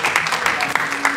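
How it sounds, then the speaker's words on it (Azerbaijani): Studio audience applauding for a performer on a televised saz music show, a continuous dense patter of clapping for the whole moment, with a host's voice speaking over it. "Alqışlar gəlsin, əziz tamaşaçılar"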